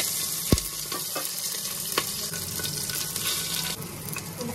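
Cumin, asafoetida, green chilies and chopped ginger sizzle in hot oil for a dal makhani tempering: a dense, steady frying hiss with a few sharp pops and stirring clinks.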